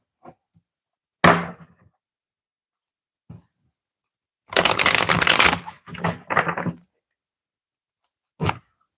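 A deck of reading cards is shuffled in several close, crisp riffling bursts with short quiet gaps between them and no talking.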